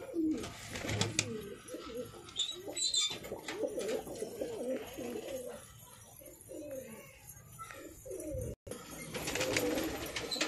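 Mulla ji breed pigeons coo in repeated soft, throaty rolls close by, several birds overlapping at an irregular rhythm, with a brief pause before the cooing swells again.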